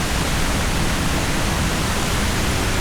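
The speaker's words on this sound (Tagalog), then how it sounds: "nakarating na kami dito sa may waterfall" Kathu Waterfall in Phuket, Thailand pours in a dense, steady broadband rush, loud and close with no breaks, no other sounds rising above the constant roar of falling water.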